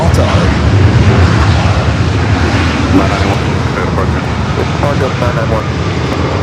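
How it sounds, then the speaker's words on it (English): A Boeing 787 Dreamliner departs from the north side at Los Angeles International Airport, its engine roar loud and rumbling, easing slightly toward the end, with a voice talking over it. "North side departure for the LL Dreamliner"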